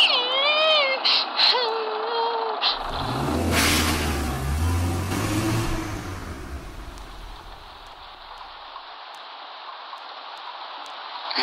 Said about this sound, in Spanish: el coche se ponía en marcha y se alejaba por el valle con un ruido de hierros viejos